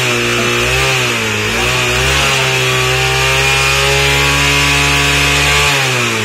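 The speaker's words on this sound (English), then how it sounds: "I took it seriously when I said rev." A motorcycle engine on a Himalayan road trip to Kinnaur revs hard and loud up close, its droning tone rising and falling in sustained pulls for several seconds.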